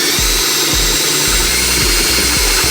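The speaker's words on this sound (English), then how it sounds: "we'll be enlarging our pilot holes to 3/8 to put those in" Power drill enlarging pilot holes to 3/8 inch in the aluminum bed of a 2018 Ford F-350, heard as a close, loud steady whine with short repeated bursts and thumps as the bit bites.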